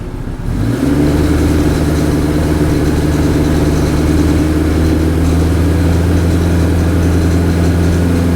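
A Kawasaki Z900 motorcycle engine, just fitted with a new stator, settles into a steady idle after a brief start, with an even, close, continuous low rumble throughout and no talk.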